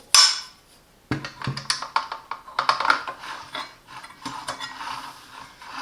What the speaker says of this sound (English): To install the blade we need this Allen key to remove this screw.